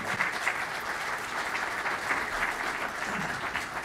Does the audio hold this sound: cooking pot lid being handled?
no